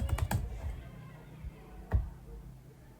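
A computer keyboard is typed on in a few quick, faint bursts of key clicks, then a single isolated keystroke, in a quiet room.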